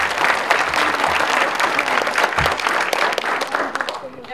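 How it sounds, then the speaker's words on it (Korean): Audience applause opening a forest-themed exhibition ceremony in Seoul: a full crowd claps vigorously and steadily throughout, loud and close, with faint voices mixed into the roar of hands. "서울 행사 개막식을 힘찬 박수로 시작하겠습니다"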